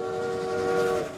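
Cartoon train from a PAW Patrol episode, with a sustained whistle tone holding steady over a rumbling rolling-stock background, fairly loud and close throughout.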